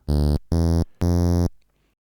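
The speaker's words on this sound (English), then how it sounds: "So here's a typical triangle wave buzzer." Three loud buzzy triangle-wave buzzer synth tones from maxYMiser, two short and one longer, separated by brief silences and ending abruptly.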